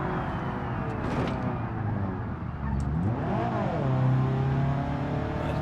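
A car engine in the BeamNG driving game revs steadily and loudly throughout, its pitch sweeping up and down as the throttle shifts, then settling into a sustained high drone.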